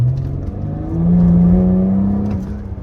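A 400-horsepower car engine revs up close, its rising, droning tone swelling in the middle and then easing back down, with no talking.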